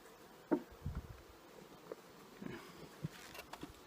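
Honeybees buzzing around an open hive during a split, a soft steady drone close by with scattered faint knocks and rustles of handling.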